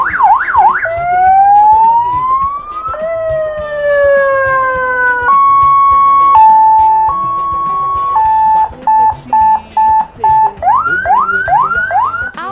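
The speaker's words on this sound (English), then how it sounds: "Three horn sound." A bus horn from the Bus Simulator Indonesia video game, in a visil horn pack, plays loud, siren-like sweeping and warbling tones. These give way to repeating stepped notes and rapid rising whoops, close and continuous, with no talk.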